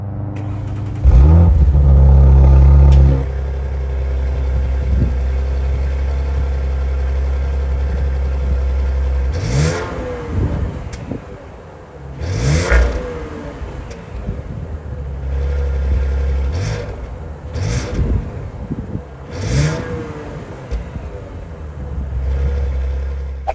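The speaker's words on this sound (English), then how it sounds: "with this engine, you have great sound at the back because you have sport exhaust on the car as well" A 2024 Audi RS5 engine with sport exhaust starts with a loud burst, idles with a deep exhaust rumble, then is revved several times in sharp, throaty bursts close by.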